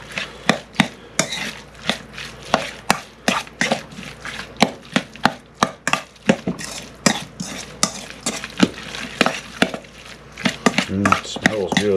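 A venison fatty filling gets mixed with melting cheese, producing a long run of sharp, regular clacks and scrapes of a utensil against the bowl or pan, close and fairly loud, with soft wet squelches between strokes.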